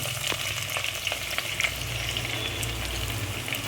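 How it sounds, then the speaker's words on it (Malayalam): Sliced onions sizzling in hot oil in a pan for a fish curry, a dense continuous frying crackle with small pops, close and steady, with no voices. "നമ്മളിതിലേക്ക് സവാള ചേർത്ത് കൊടുക്കുകയാണ്"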